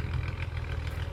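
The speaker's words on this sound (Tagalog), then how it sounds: "Sorry guys ha, ingay na sasakyan talaga, pero paalis na yan." A noisy car engine runs steadily nearby with a strong low rumble, idling or pulling away, with no voices over it.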